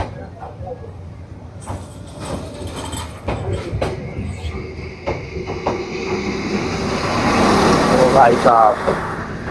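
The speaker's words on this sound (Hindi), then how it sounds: "अरे लंबी है यार ट्रेन, तो मेरे को लगा 2-4 डब्बे होंगे, 8-10 डब्बे है।" A long passenger train rolls past a waiting crowd in Hanoi at night. It makes a rising rumble and clatter that builds toward the end with a brief metallic squeal, while people talk nearby.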